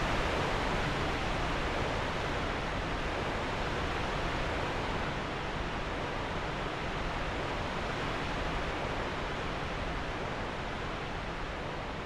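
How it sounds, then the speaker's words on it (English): A rushing waterfall gives a steady, dense roar of broadband noise, even and unbroken for twelve seconds at moderate level, with no voices. "There's a waterfall!"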